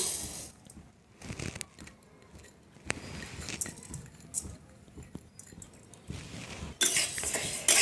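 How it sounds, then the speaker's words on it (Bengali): Mung dal being dry-roasted in a dry kadai: intermittent rattling and scraping of grains and a utensil against the metal pan, close and fairly quiet, with a brief rustle at the end. "প্রথমে মুগ ডালটা ভেজে নেব। শুকনো কড়াই দিয়ে দিচ্ছি।"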